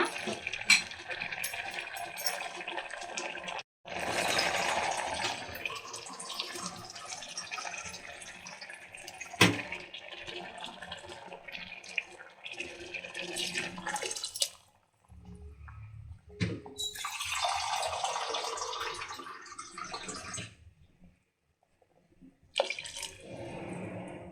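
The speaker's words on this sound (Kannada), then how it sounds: "ನೀರನ್ನು ಆ್ಯಡ್ ಮಾಡ್ಕೊಳ್ಳೋಣ" Water pours and splashes into a pot of palak dal in uneven bursts, with brief pauses and a few clinks of metal between pours.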